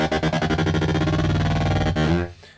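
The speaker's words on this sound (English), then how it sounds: "I use a trick using the tremolo block of the Fractal." Distorted electric guitar chord pulsing through a Fractal tremolo block, the volume throbbing in fast even waves before the tone cuts off and fades, loud and close with no talk.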